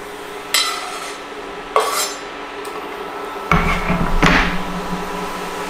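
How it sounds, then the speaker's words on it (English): Mushrooms tipped into a pan of softened onions for a vegan Christmas Wellington, with loud clanks of utensil on metal at intervals, then scraping and stirring with a sizzle under it. "So we'll pop in our mushrooms in there."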